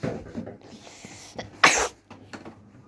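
A single sharp sneeze bursts out near the middle, loud and close, with quiet household talk and movement faintly around it.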